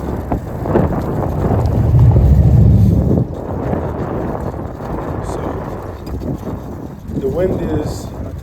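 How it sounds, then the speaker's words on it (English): Strong north wind buffets an outdoor microphone in loud, steady low rumbling gusts, peaking in the first few seconds, with a muffled voice talking underneath. "The wind is, I think, I don't know, 17 miles an hour out of the north."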